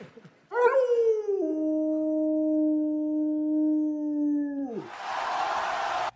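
A person imitates a wolf howl, one long sustained rising and steady tone held for about four seconds before trailing off, followed by a burst of crowd noise.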